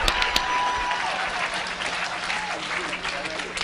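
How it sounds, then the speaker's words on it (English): Audience applause at a motivational sermon, sustained clapping from a crowd filling the whole clip, with a voice briefly over it at the start. "Come on, clap your hands."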